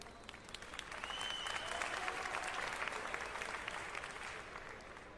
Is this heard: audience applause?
yes